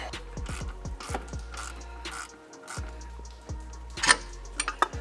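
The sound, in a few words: breaker bar loosening a 10 mm bolt on car suspension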